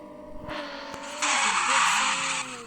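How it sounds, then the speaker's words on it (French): A car drifting in a video game, with a steady engine drone that turns into a loud, sustained tire squeal for about a second before easing off. "Oh, le drift, les gars. C'est chaud."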